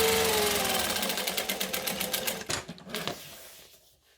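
A sewing machine stitching lines on a handbag, a fast, even mechanical rattle that starts loud and close, runs steadily, then slows with a few separate clunks before stopping into near silence.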